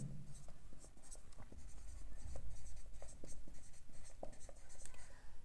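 Chalk or marker strokes on a classroom board during a physics lesson, a steady run of short scratchy taps and scrapes that carries on for several seconds, with a faint murmur of voice in the background.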